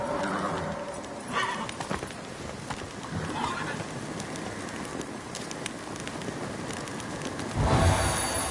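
A horse in The Witcher 3 gallops with steady, close hoofbeats and lets out a whinny partway through, over a busy game soundscape; no one talks.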